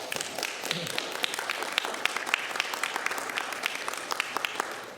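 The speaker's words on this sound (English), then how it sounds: "Let's give them a round of applause" School board workshop audience applauding the district principals, steady crowd clapping with sharp individual claps throughout, moderately loud and sustained without speech.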